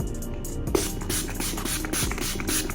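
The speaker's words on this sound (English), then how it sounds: "we're gonna really spritz our face to melt our makeup" Rose water face spray spritzed close up as part of a makeup routine, a short burst of misty hiss with a small click of the nozzle, nearby and clear.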